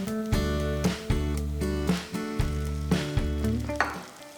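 Chopped green chilies and curry leaves fry in oil for a crab masala, crackling and sizzling under a steady low hum, with rhythmic scraping strokes.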